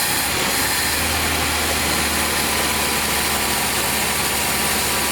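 A carbureted 1982 Nissan 720 King Cab mini truck engine runs on its own, close by, with a steady low idle as it begins to starve for gas.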